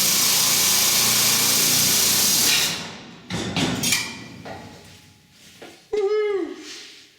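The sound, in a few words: cutting through tack welds on Austin Mini hinge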